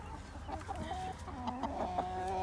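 A hen clucks close by in a farmyard, a run of short, overlapping throaty calls rising and falling over about two seconds, with no talking.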